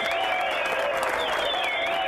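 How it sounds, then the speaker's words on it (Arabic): Applause in a classroom, steady clapping at an even level, mixed with tonal whistling or chirping sounds and voices. "صفقوا له يا جماعة"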